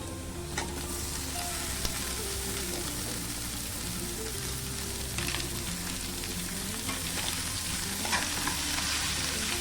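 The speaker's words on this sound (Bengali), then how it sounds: "লতির সাথে পেঁয়াজ এবং রসুনটাকে ভালো করে ভেজে নেব।" Taro stolons frying in oil with onion, garlic and black cumin, a dense steady sizzle and crackle throughout with occasional stirring scrapes, close and continuous.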